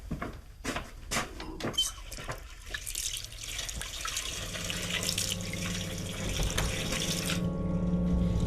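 Running water from a kitchen tap filling a glass, a steady close hiss and splash building over several seconds after a few clicks and knocks, with a low hum under it; no one speaks.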